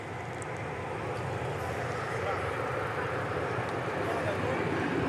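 Airliner on Flight 9 from Albuquerque, New Mexico arriving at DFW Airport, heard as a loud, steady broadband jet roar that swells slightly, with faint voices talking underneath.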